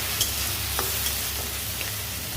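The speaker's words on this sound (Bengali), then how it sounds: "প্রথমে আমি পেঁয়াজটাকে ভালো করে ফ্রাই করবো" Onions frying in a pan make a steady, close, even sizzle, with a few faint clicks of stirring over it.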